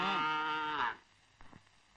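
A cow gives one long, loud moo lasting nearly a second, then falls away to quiet background with a couple of faint knocks.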